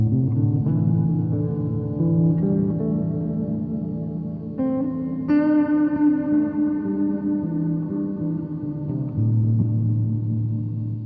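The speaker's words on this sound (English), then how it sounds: "Very shimmery reverb." Sustained electric guitar notes through a Raspberry Pi guitar amplifier, washed in a lush, shimmering reverb, tones ringing and blending into a long, airy tail.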